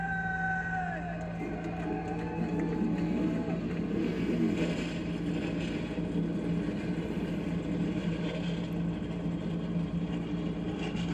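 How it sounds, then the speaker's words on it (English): Race car engines fire up together at Daytona for an Xfinity Series race, a dense, loud rumble that swells into a sustained roar after a brief tonal sound at the start. "Drivers, start your engine!"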